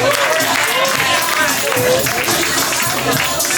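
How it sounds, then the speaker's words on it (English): Audience clapping at a spoken word poetry open mic, a loud, dense wash of applause mixed with crowd chatter and voices throughout. "Clap it up for Mackenzy the Poet one more time."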